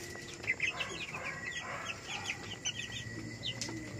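Cobb 500 broiler chicks about 18 days old, a flock cheeping and peeping in scattered high bursts, faint and continuous against a low background hum.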